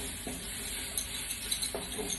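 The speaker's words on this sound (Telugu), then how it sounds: "చిక్కుడుకాయ బాగా మగ్గిపోయింది, మంచిగా ఫ్రై అయిపోయింది." Cluster beans frying in oil in a pan, a faint steady sizzle with a few soft stirring scrapes and utensil touches.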